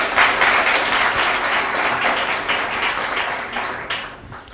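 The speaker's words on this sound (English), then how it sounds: "please greet them all now with a round of applause." A conference audience breaks into loud applause, a thick burst of many clapping hands that slowly fades toward the end.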